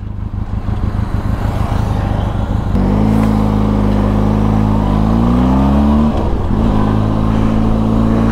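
A Benelli TRK 502 X adventure motorcycle engine idles with a steady low throb, then revs up loudly with rising and falling pitch over several seconds, close and continuous with no talk.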